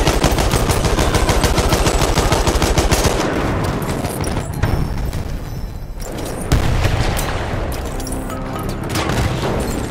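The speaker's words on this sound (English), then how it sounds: "Enemy machine gun sighted." Machine gun fire in Battlefield 1, loud rapid automatic bursts with heavy booms and crashes of a battlefield, nearly continuous over ten seconds.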